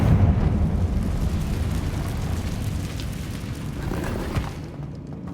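A Confringo fire spell blasts in Hogwarts Legacy, a loud, rumbling boom that rolls on for several seconds before thinning out, heard alone without talk.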